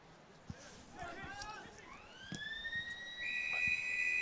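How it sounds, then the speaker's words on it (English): A quarter-time siren wails at an Australian rules football ground in Ballarat, rising in pitch and then holding a long steady tone, heard at a distance over someone commentating. "So siren sounds for quarter time here."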